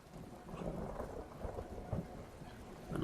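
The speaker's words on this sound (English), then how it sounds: "A nice rainstorm." Rain and rumbling thunder from a storm in Skyrim, a steady wash of rainfall with low rolling thunder swelling underneath, fairly quiet and without voices.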